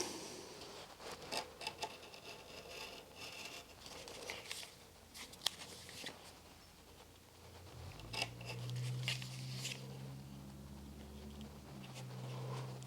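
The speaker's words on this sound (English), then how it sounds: "just using my pocket knife" A Swiss Army pocket knife cuts the kiltie on a pair of Whites 350 Cruisers boots in quiet, intermittent scraping and snipping strokes, while a low hum rises near the end.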